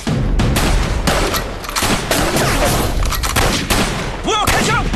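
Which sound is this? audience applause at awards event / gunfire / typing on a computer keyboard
gunfire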